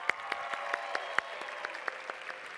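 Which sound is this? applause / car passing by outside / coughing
applause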